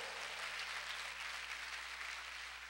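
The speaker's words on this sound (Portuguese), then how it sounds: "Aplauda o Senhor mais forte que você puder." A church congregation claps together during a sermon, a dense, even wash of applause that holds steady throughout at a moderate distance, with no speech over it.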